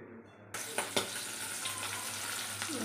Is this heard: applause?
no